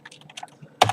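Typing code on a computer keyboard: scattered soft key taps, then a louder close cluster of keystrokes near the end.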